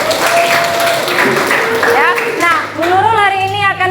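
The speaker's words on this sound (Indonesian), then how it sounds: "Tepuk tangan buat 12 ya" Scattered clapping from a class swells briefly while people talk and call out over it in a lively room.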